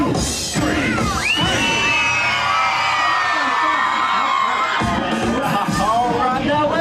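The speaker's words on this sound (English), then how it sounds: "I want everybody screaming at the top of their lungs" At a summer block party in Disney's California Adventure's bug's land in 2005, a large crowd of adults and children screams and whoops at full volume. The sound is loud, dense and continuous, with shrill whistles and shrieks on top.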